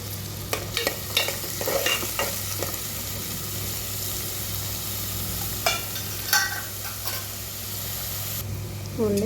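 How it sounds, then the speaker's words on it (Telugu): Green chillies fry in hot oil for a prawn curry, a steady sizzle running throughout with scattered crackles and pops and a few scraping stirs, close and moderately loud. Talk is faint or absent. "ఓన్లీ పచ్చిమిర్చి వేగిపోయింది."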